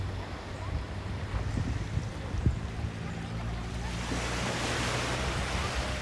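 Surf washes onto a sandy beach at Klong Muang in Krabi, Thailand, a steady broadband rush mixed with wind buffeting the microphone, growing fuller and louder in the second half.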